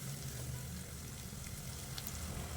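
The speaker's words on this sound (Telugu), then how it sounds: "దీన్ని బాగా ఇట్లా వేపుతేనే ఢాబా స్టైల్గా వస్తుందండి పన్నీర్ కర్రీ" Paneer sizzles and fries in a pan for a dhaba-style paneer masala curry, a steady soft crackle throughout with a low background hum.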